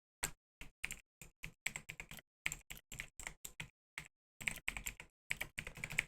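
Keys on a computer keyboard clatter in quick bursts of taps separated by short pauses, close and fairly quiet, as a note is typed with no one speaking.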